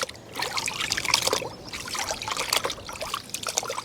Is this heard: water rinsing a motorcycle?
yes